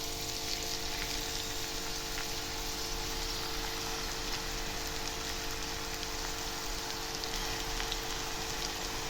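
Gongura (sorrel) leaves frying in hot oil for a Tamil-style pachadi, a steady dense crackling sizzle that holds even and loud throughout with no speech.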